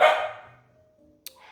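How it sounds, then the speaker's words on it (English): A single dog bark, muffled and distant, fading quickly into near silence, followed by a faint brief click. "you might hear some muffled barks in the background, but I closed the screen door"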